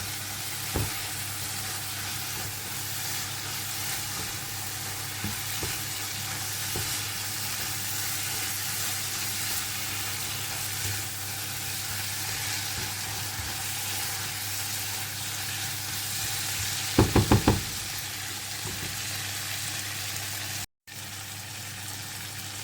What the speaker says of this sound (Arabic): هسه بهذا المرحلة أضيف الكزبرة والحلبة وحمصه